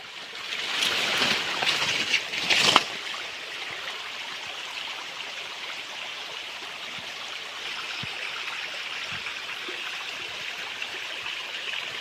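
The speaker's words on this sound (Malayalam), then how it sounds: "ഈ തോട് ചെറിയ തോട് നമ്മുടെ പറമ്പിക്കൂടെ വരുന്ന തോടാണ് കേട്ടോ" A small stream flows through a forest plot toward a dam, giving a soft steady trickle and babble that runs throughout after a brief louder burst of rushing water near the start.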